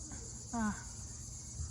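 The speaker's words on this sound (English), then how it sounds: "I love the cicadas, free of charge" Cicadas give a steady, high, continuous buzz through the whole moment, with a brief voice-like sound partway through.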